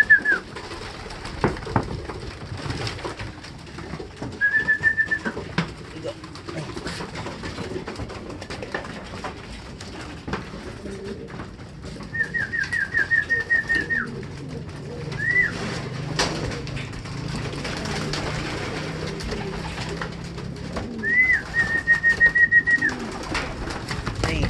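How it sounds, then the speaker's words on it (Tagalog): Pigeons coo repeatedly in short rolling calls over soft pecking and shuffling as they feed, with faint background noise throughout and no talking. "magagana kumain yung mga ibon natin"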